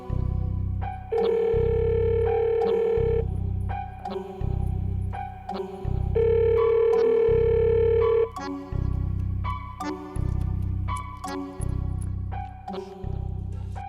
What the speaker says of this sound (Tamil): அக்கா கீழே ஃபோன் அடிக்குது.